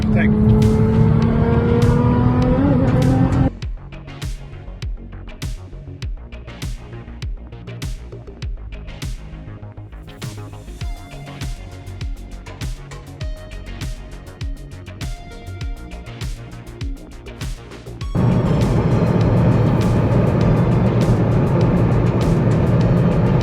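A tuned Nissan GT-R with 925 bhp overtakes, its loud engine roar rising in pitch, dropping to a muffled in-car drone, then roaring up again, while voices talk over it.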